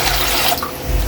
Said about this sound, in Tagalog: maglagay na tayo dito ng tubig